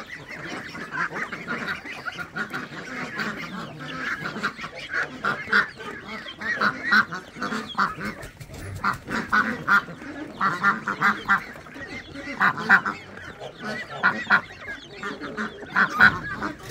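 Ducks being fed from a pan outdoors, a steady chorus of loud honking and quacking from a flock nearby, with overlapping calls building in intensity throughout.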